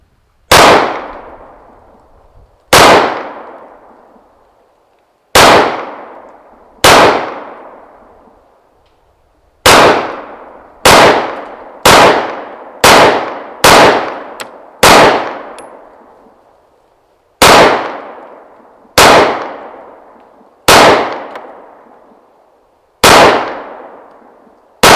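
Gunshots strike a metal zombie target outdoors, thirteen sharp cracks each ringing with a metallic clang that decays over a second or two, spaced irregularly with a quick cluster near the middle, loud and close, no talk.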